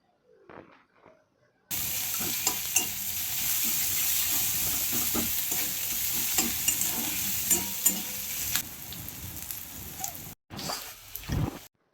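Onions and garlic fry in a pan for Odia-style dalma, a steady close sizzle with occasional stirring clinks and scrapes running for about nine seconds, then a brief pause and a few louder stirs.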